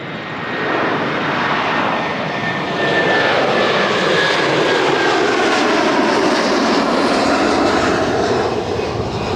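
An airliner at Toronto Pearson airport passes close and loud, a broad roaring jet-engine rush that builds and holds steady throughout, with no talk over it.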